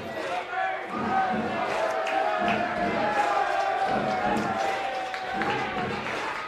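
A baseball crowd on the Holy Cross side gives a steady round of applause and cheering for a pitcher leaving a prep game against Jesuit, continuous and moderately distant, with an announcer talking over it.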